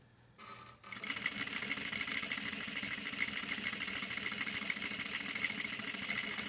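A sewing machine runs steadily along the presser foot edge while stitching concentric shapes, starting up after a brief quiet moment into a continuous, fast rattling whir close by.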